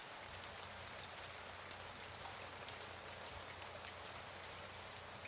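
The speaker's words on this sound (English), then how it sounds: "It was rain, but Rain. It was rainfall." Recorded rainfall plays as a steady background bed, a dense even patter of drops hissing on a surface throughout, fairly faint and with no speech over it.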